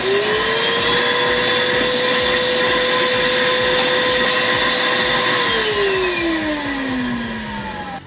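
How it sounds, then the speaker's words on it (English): A pet grooming kit vacuum fitted with a crevice tool runs loudly and steadily, its motor whine holding one pitch before gliding lower toward the end as it starts to wind down. "And we also have this vacuum attachment."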